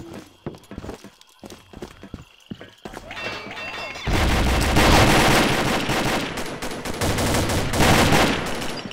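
Rapid bursts of automatic gunfire from a Call of Duty match, sparse sharp shots at first, then dense sustained firing, loud and close, with players talking over it.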